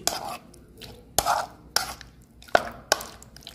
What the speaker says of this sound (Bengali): চামচের সাহায্যে আমি একটু নেড়েচেড়ে মিশিয়ে নিচ্ছি।